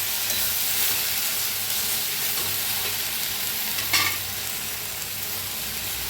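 Whole spices, sesame seeds and salt roast in a pan with a steady dry sizzle and hiss, one brief scrape of stirring partway through, no talking.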